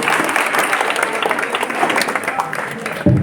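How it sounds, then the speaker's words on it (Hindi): An audience applauds Professor Nasreen at an event honouring her, a dense burst of clapping lasting a few seconds with voices mixed in. "एक बार जोरदार तालियां प्रोफेसर नसरीन मैम के लिए।"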